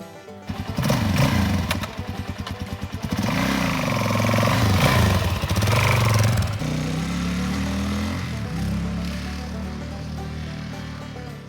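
A motorcycle engine runs close by, loud and steady with rising and falling revs, setting off for a ride from a camper van stop.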